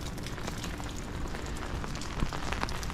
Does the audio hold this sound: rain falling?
yes